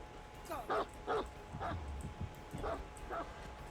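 The Houndmaster's dog in a video game barks in a handful of short, quiet yips and bow-wows spaced irregularly, faint against a low background.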